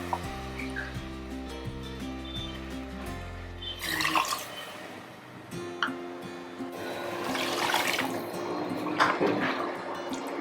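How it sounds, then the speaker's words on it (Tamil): Water pours into a pot for making ven pongal in splashy, gurgling bursts, close by, following a stretch of steady background hum, with brief pauses between pours. "இப்போ இதுக்கு 3 கப் தண்ணி ஊற்றினா சரியா இருக்கும்."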